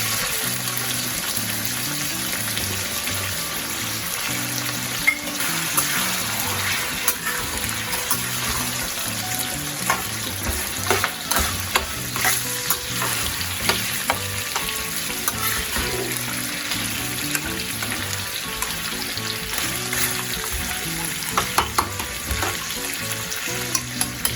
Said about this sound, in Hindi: तो मैंने यहाँ इसमें देसी घी डाल दिया।